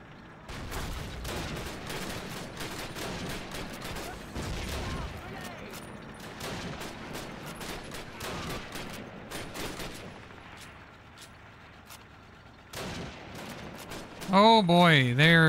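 Gunfire from World War II combat in Call of Duty: United Offensive, dense overlapping rifle and machine-gun shots crackling throughout, loud and continuous, with a brief pause near the end before more firing and a musical swell.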